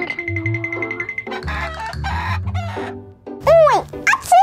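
A cartoon rooster clucks and squawks, a series of rising and falling bird calls close up that grow louder toward the end, over light music and background sounds.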